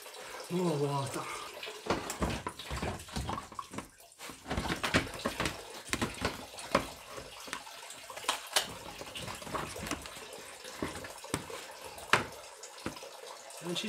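Water pours and splashes unevenly in bursts while refilling the cooling system of a BMW E31 850i, with people talking over it.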